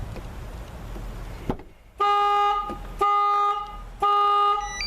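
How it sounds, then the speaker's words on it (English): A Chevy Silverado pickup's alarm goes off after its door is opened, blaring loud repeated horn-like honks about once a second, close by and without talk. "This is what happens, people, when the door is open and the alarm is activated."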